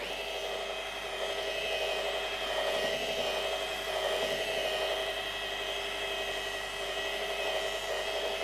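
A polishing machine runs slowly, buffing compound across a sanded composite panel with a lamb's wool pad, giving a steady, close whine with broad hiss that holds level throughout and no talk.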